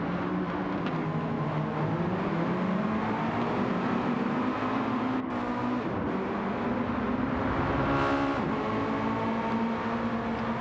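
Mazda Roadster race cars in a racing video game, engines droning steadily with a continuous whine that rises and falls through gear changes, several cars close together in a battle on track.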